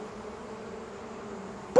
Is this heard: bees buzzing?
yes